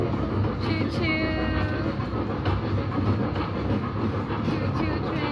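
A choo choo train ride at an amusement park rumbles steadily throughout, with rolling wheel noise and brief high tones, loud and close over crowd ambience.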